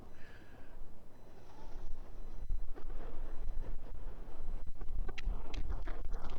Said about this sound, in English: This wind is really strong